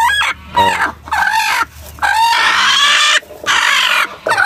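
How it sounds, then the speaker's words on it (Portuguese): A brooding silkie hen gives loud, close, drawn-out clucks and grumbling calls in repeated bursts with short gaps between them. "Uma senhora sedosa que tá chocando aqui"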